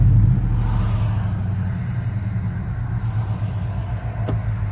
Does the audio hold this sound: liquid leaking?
no